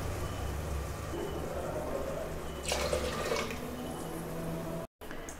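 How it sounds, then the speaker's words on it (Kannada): Water poured into a spice grinder jar to rinse it, then emptied into a curry pot, a soft splashing pour that swells briefly in the middle, over faint kitchen background with no talking. "ಹಾಗಾಗಿ ನಾನು ಈ ಖಾರದ್ದು ಜಾರ್ ಏನಿದೆ ಇದಕ್ಕೆ ಈ ರೀತಿ ವಾಶ್ ಮಾಡಿಕೊಂಡು ನೀರನ್ನು ಸೇರಿಸ್ಕೊಳ್ತೀನಿ."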